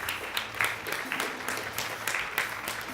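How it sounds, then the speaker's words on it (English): An audience at a junior insurance-awareness quiz grand finale claps for a team, a moderate, fairly steady round of applause with a few sharper claps mixed in. "Give them a round of applause, please."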